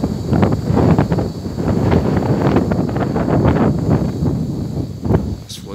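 Hot 35-degree wind in Porto Alegre, Brazil, buffets the microphone in rough, continuous gusts ahead of a front, with rustling underneath and no clear voices.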